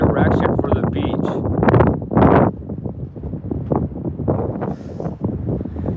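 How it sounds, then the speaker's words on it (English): Strong wind blows on a beach, roaring hard into the microphone as loud, continuous gusty buffeting, with a person talking underneath. "Yeah, the wind is actually blowing real hard."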